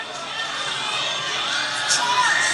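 A crowd at a high school football game shouts and cheers in a dense, continuous roar of many voices, with a few higher yells rising near the end.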